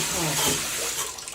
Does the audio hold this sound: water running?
yes